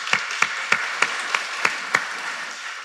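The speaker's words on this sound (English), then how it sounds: "But let's nice round of applause for Greg, by the way, ladies and gentlemen." An audience in a church claps in a steady, even rhythm, about seven sharp beats over a background of crowd noise.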